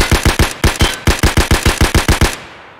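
Automatic rifle fire in Escape from Tarkov with reduced recoil, a rapid burst of about fifteen loud, close shots in quick rhythm with a brief pause, then a fading tail.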